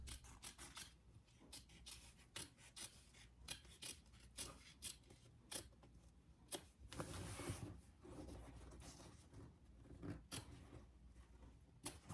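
Scissors snip repeatedly through a fabric overlay for a tote bag, close-up crisp cuts in an irregular rhythm with a longer rustling slide of fabric midway.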